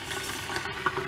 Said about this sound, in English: Kettle's boiling.